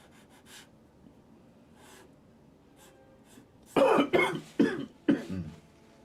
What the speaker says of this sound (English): I'm coughing. I think I got the flu,